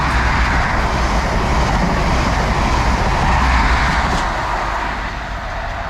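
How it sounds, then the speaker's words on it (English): A High Speed Train heading from Edinburgh to Aberdeen roars past at close range, a loud, steady rumble with a broad wash of wheel and engine noise that holds for several seconds, then eases slightly. "here comes said HST heading to Aberdeen from Edinburgh"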